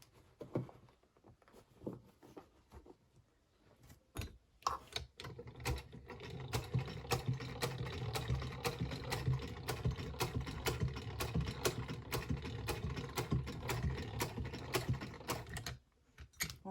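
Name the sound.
sewing machine stitching trousers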